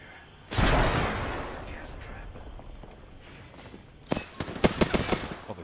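Gunfire in the Apex Legends video game, a heavy near blast followed by a fading tail, then a quick burst of sharp shots toward the end, with talk in between.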